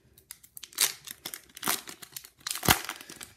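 Crinkling and tearing of a foil pack of Young Guns hockey cards, three louder rips with softer rustling between them, close and clear with no voices.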